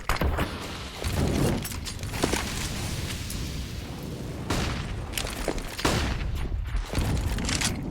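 Frag grenade blasts and gunfire in Counter-Strike on the Inferno map during a professional tournament match, with loud booming bursts at irregular intervals over continuous rumbling combat noise.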